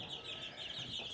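Young meat-bird chickens on a homestead cluck and peep softly, a faint, busy stream of high chirping from a small flock, with no talk.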